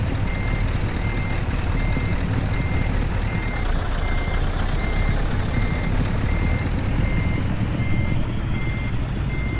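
A reversing truck in the Euro Truck Simulator 2 video game sends out a steady series of evenly spaced electronic beeps over a constant loud engine drone, with no voices.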